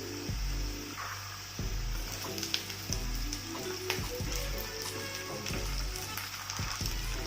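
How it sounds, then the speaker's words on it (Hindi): Chopped onion hits hot oil with browned potatoes in a pan while cooking Indori poha, giving a steady, close sizzle dotted with small crackles and pops throughout. "कटी हुई प्याज डाल देंगे।"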